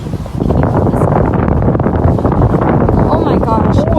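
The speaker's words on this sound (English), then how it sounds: "And it is so windy." Strong wind buffeting a microphone outdoors near a subway stop, a loud continuous roaring rumble with gusting texture throughout, and no clear speech.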